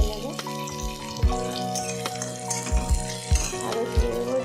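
Onion lightly frying in oil in a pan gives a steady sizzle with occasional utensil clacks, partly masked by a sustained tonal hum or music in the background.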